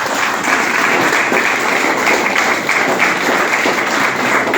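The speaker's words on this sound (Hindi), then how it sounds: "आइए, स्वागतम, तालियां जोरदार होनी चाहिए" Loud, sustained applause from an audience at a direct selling business event as a guest is welcomed onstage, a thick continuous patter of many hands clapping without speech.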